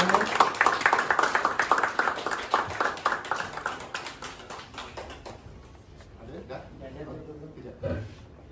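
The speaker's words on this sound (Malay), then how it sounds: "berikan tepukan yang gemuruh kepada Zaharis" An audience claps at a book launch held in a bicycle shop, with a burst of rapid, close handclaps that thin out and fade, followed by quieter murmuring voices.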